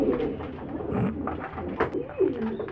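A pigeon coos nearby in a soft, low, throaty series of rolling calls with a small rise near the end, alone in a quiet setting.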